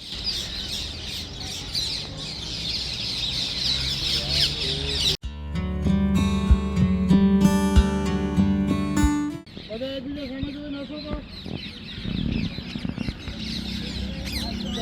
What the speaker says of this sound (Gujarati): સવારની પક્ષીનો અવાજ કેવો આવે જોરદાર